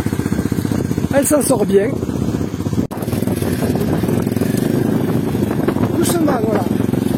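Small Apollo 125 RFZ motorcycle ridden slowly in first gear by a beginner, a steady low engine drone running throughout with brief rises in pitch, while people talk over it.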